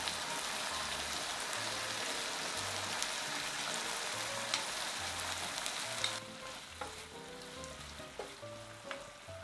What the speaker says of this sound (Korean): 만들어 놓은 양념 모두 넣고 꽈리고추와 잘 섞이도록 볶아주세요